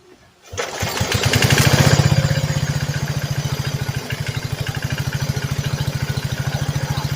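A go-kart engine with a modified rope start catches after a brief pull and runs loudly with a rapid, steady thumping beat, revving up early then settling into a rough, even idle close by.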